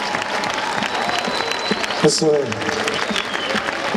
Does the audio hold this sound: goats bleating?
no